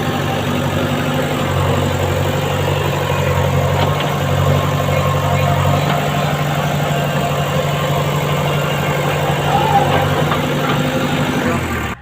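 A JCB excavator engine idles in a village, giving a steady, loud, continuous low rumble with a constant mechanical hum that runs unbroken from start to finish.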